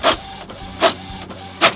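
White printer printing in a horror video game, three sharp mechanical bursts spaced roughly 0.8 seconds apart over a quiet low hum, loud and close with no talk.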